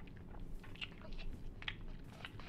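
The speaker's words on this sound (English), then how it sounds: "Do you hear that chewing noise or some shit?" Wet chewing and biting sounds in the Chilla's Art horror game Jisatsu, faint and intermittent crunches spread over a low rumbling background, with no talk over them.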